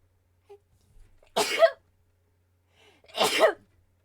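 Two sharp sneezes, close and fairly quiet, spaced about two seconds apart in an otherwise still room.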